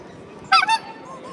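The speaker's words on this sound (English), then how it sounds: "a wooden plank that has 2 squeaky toys tied under" Two squeaky toys tied beneath a wooden plank on a Mondioring dog-sport championship field give one brief, loud, honking double squeak against quiet background noise.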